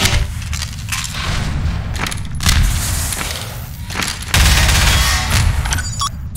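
Rocket explosions in the Half-Life 2 Deathmatch shooter: loud, heavy booming blasts that burst out repeatedly over a dense clatter of gunfire, with a particularly strong blast late in the fight.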